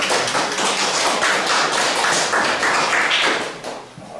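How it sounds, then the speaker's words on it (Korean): Applause from a lecture-hall audience of teachers welcoming a visiting university lecturer, a dense steady wash of many hands clapping at close range, fading out near the end. "큰 박수 부탁드립니다."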